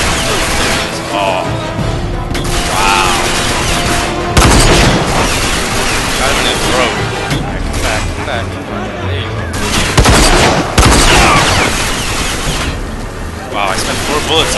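A sniper rifle fires in a first-person shooter video game, with loud, sharp shots and heavy booms over a constant din of combat, while a player talks throughout.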